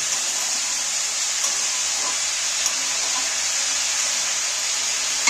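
A spiced vegetable mixture with turmeric fries in a pan, giving a steady loud sizzling hiss, close up and unbroken, with a few faint clicks from stirring.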